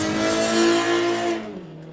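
A drift car fitted with a Toyota Altezza engine revs hard at a drift championship round, a loud, sustained high-pitched engine wail that holds steady, then drops in pitch and fades over the final half second.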